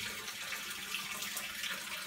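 Water runs steadily from a household tap into a tank that is overflowing, a continuous close splashing rush with no pauses and no voices.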